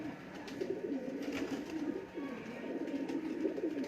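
Domestic pigeons, a breeding male and female, coo steadily close to the microphone in soft rolling murmurs over a faint constant background.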